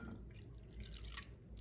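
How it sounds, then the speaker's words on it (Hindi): Water pours into a beaten egg, sugar, salt and milk mixture for bun parotta dough, with soft splashing and dripping, a few brighter splashes near the end, quiet and close. "इसमें 1 कप भर के पानी डाल दें,"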